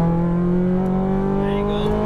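Ferrari F430 engine pulling hard on throttle, a loud, close, steady engine note with strong harmonics that climbs gradually in pitch over two seconds, continuous and without talk.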